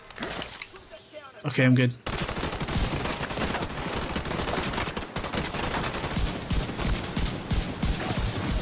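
In The Division 2, heavy gunfire and mortar blasts rattle in a dense, continuous barrage after a short quieter lead-in. A player speaks briefly over the din.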